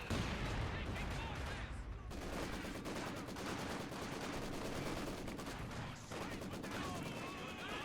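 Grenadiers open fire in Company of Heroes 2 on the Highway to Baku map: loud, continuous rifle and machine-gun bursts with heavy explosive thumps, layered densely throughout, with a commentator's voice mixed in.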